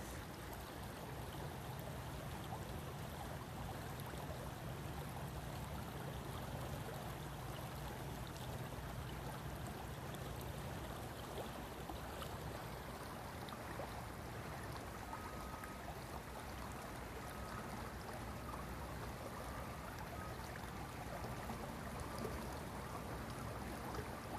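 A creek flows steadily with a soft, continuous watery rush, fairly faint and even throughout, with no voices.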